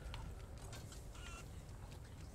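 Chickens cluck softly in the Resident Evil 4 Remake village, short scattered calls over a steady low rumbling ambience, fairly faint and distant.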